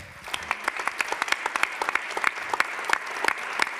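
A small audience at a startup competition final claps steadily, sharp individual hand claps scattered throughout, moderately close with no voices.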